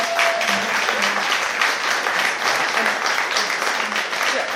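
A full room of attendees at a public evening talk in Christchurch gives a steady, sustained round of applause, even and loud throughout with faint voices mixed in.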